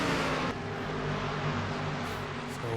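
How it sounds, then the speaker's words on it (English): A stock race car roars past in an ISCR Cup Classic Series sim race at North Wilkesboro, a loud, steady engine drone with broadband rushing noise that shifts slightly in pitch as it goes by, no talk over it. "Here another car."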